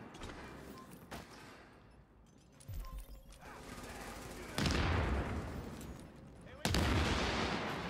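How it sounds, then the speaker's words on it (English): Grenade explosions in a video game, several heavy booms with sharp bursts and long rumbling tails, loud and close, amid scattered gunfire and clattering. "Grenades everywhere!"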